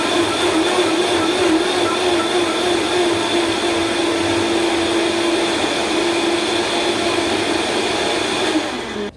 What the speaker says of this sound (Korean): 자, 블렌더 뚜껑을 닫고요. 약 8초에서 10초간 갈아주도록 하겠습니다.